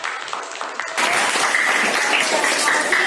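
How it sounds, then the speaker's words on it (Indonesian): A classroom of students claps for a student who just spoke, the applause swelling abruptly to a dense, steady patter after a brief quieter lead-in. "Kita beri tepuk tangan lagi untuk Devano."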